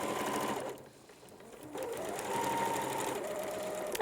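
Sewing machine stitching along a fabric seam of a drawstring bag, a steady close whirring hum that pauses briefly before starting again and running evenly to the end.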